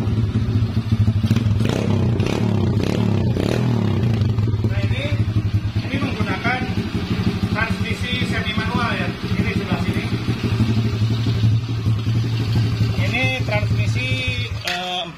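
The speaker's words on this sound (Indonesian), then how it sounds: "Kita coba starter." A small motorcycle engine, an RXF 50 or MXgp 25 dirt bike, is started and keeps running at a steady, loud idle with buzzing clatter throughout, while a person talks over it.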